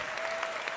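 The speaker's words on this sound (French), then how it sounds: "Oui, on peut applaudir Séverine" Brief burst of audience applause at a fashion show runway event in Geneva, a dense steady patter of many hands clapping heard in a short fragment.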